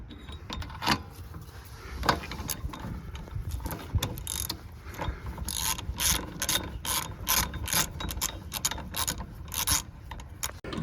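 A ratchet tightens wheel bearing bolts on a 2009–2015 Toyota Venza, with quick bursts of clicking pawl strokes in uneven runs that grow denser and more rhythmic toward the end, close and clear with no speech.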